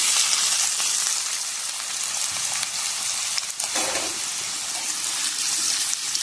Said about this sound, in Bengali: তেল গরম হয়ে গেছে, প্রথমে আমি আলুটাকে একটু ভেজে নেব।